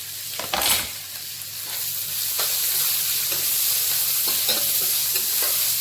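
Onions, ginger and garlic sizzle steadily in a hot pan while a spoon scrapes and stirs them now and then. No one speaks.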